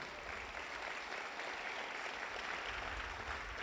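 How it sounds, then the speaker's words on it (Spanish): A church congregation claps during a Sunday service, a steady wash of many hands applauding together, fairly faint and continuous throughout. "Le damos un fuerte aplauso al Señor."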